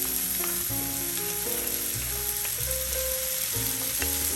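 Ground jalapeños sauté for a chili verde sauce, giving a continuous close sizzle. A steady tonal hum and musical notes sound over it throughout, with no speech.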